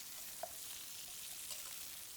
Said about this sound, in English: we are going to add the pumpkin, potato, and sweet corn blocks in there and stir fry a few more minutes